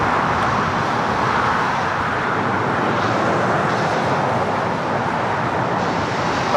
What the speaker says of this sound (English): This is British Airways 282 Speedbird 8 Delta Sierra Heavy taking off to London Heathrow on a 777-300ER